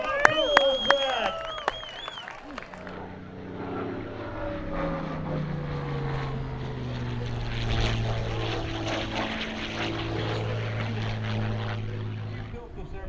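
A large-scale radio-controlled model warplane's droning propeller engine sweeps by overhead at a warbird show, with rising and falling pitch, steady and fairly loud, while a crowd chatters in the background.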